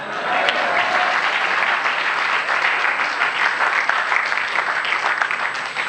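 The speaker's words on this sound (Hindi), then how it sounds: "उस पर आपकी तालियां उठनी चाहिए" Sustained audience applause at a Hindi comedy poetry gathering (kavi sammelan), loud and dense with no break, a large crowd clapping steadily throughout.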